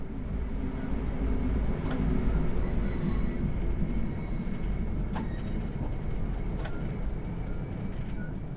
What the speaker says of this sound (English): bring the train to a gentle stop